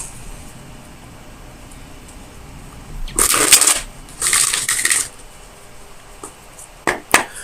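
Tarot cards shuffled for a reading to draw clarifiers: two quick bursts of crisp riffling after a quiet stretch, then a few sharp card taps near the end, close and without speech.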